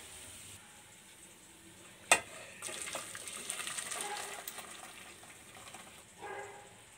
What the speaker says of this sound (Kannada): ಹಾಗೆ ಇಲ್ಲಿ ಕಡಲೆಬೇಳೆ ಹಾಕ್ತಾ ಇದ್ದೀನಿ.